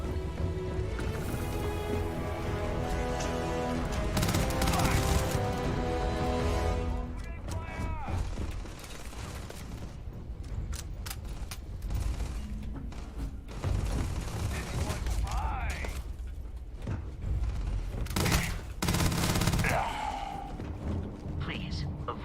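Gunfire in a Starfield video game firefight, bursts of shots and impacts at close range mixed with mechanical clanks and booms, while voices talk over the action.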